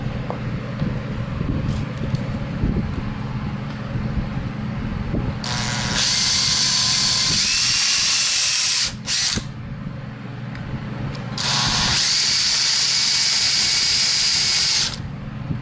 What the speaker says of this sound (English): you're just going to get your drill and drill 4 holes